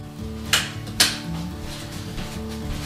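A pot lid comes off the slow-cooked baked beans, and the rotisserie is pulled from the oven. Two sharp metallic clanks sound close together, followed by a low steady hum.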